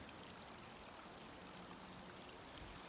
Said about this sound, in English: Going down and joining this creek.